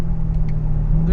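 A Chevy Corvette C7 Z51 engine drones deep and throaty from inside the car, a steady low rumble holding an even pitch for a brief moment.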